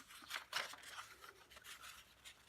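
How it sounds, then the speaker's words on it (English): A sheet of paper is folded in half, giving soft rustling and crisp scraping rubs as the paper is handled and creased close by, faint and uneven with no voices. "So you fold the paper in half,"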